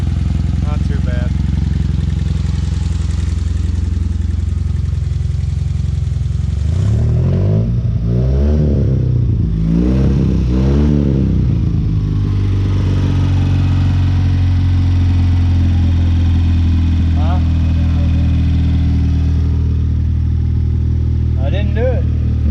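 A rebuilt Joyner Spyder 650 engine runs steadily close by, with a brief rise and fall in revs partway through before settling back to a constant mechanical drone.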